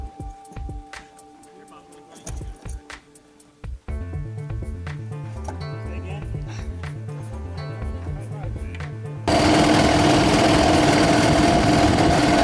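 Tractor engine idling at a gliderport, a steady low mechanical chug with people talking nearby, then a louder broadband burst of noise over the final few seconds.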